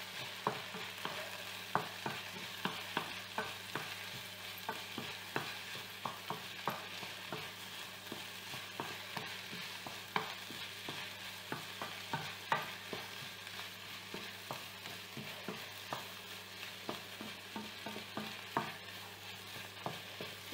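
Precooked snails with onion and garlic sizzle softly in a pan, a low constant fry hiss broken by frequent light clicks of stirring, close but quiet.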